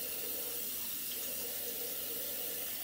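A bathroom tap runs steadily while someone washes their face, a constant close rushing stream of water with no talking.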